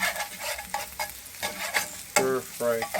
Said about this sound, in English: I am going to stir fry them a little bit, guys.